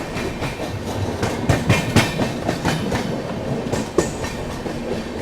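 The Sarnath Express passenger train moves along the line near Kanpur, giving a steady, loud rumble with rhythmic clickety-clack of wheels over rail joints and occasional sharper knocks, heard from on board.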